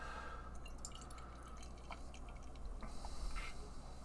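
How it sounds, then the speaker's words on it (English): Raspberry Cheesecake Berliner sour beer from Weldwerks Brewing pouring into a small sour glass, soft liquid trickling and dripping with a few bright splashes, faint and close, no talk. "let's see how this guy pours."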